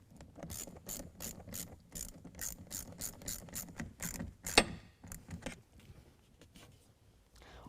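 A ratchet with an 11 mm socket clicks in fast bursts as it tightens an air intake tube clamp on a 2020 Ram 2500 6.7L diesel Cummins, close and crisp, then fades into softer handling sounds.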